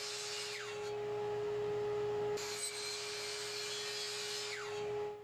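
A miter saw cuts wooden panels for a board game box, a continuous close whine with a steady motor tone and rasping bite through the wood, briefly dipping midway before resuming and tapering off, without talking.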